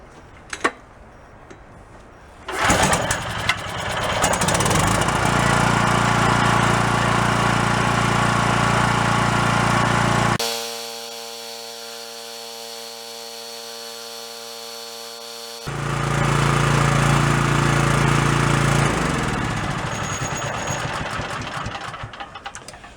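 Small gas generator engine catching after a pull start with the choke on, then running loudly and steadily, briefly dropping to a lower humming idle before revving back up and settling again.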